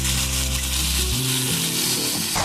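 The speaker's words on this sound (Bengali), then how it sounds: "মাংসটা দিয়ে আমি খুব ভালো করে কষিয়ে দেবো।" Meat being sautéed in a pan, a dense, even sizzling hiss with a low background hum, steady and close throughout with no voices.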